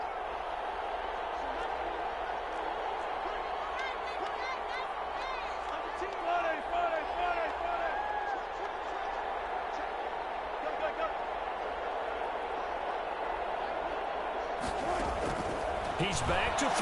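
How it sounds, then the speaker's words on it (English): A football stadium crowd roars steadily and loudly during a two-point conversion attempt in a Vikings game, a dense wash of cheering with distant voices and whistles, swelling into a sharper burst of noise near the end. "Listen to this crowd now"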